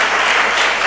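A congregation at a Telugu church service breaks into loud, dense applause, a continuous close clatter of many hands with no pauses.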